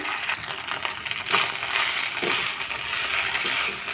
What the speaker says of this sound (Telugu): కొద్దిగా ఆయిల్ వేసుకొని మనం ఇందాక క్లీన్ చేసి పెట్టుకున్నటువంటి పుదీనా ఆకుల్ని ఇందులో వేసేసి బాగా వేయించుకోవాలి